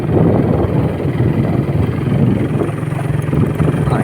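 A Raider 150 motorcycle with a carburettor engine runs continuously at a steady, close, fairly loud idle-like drone, with no talking heard.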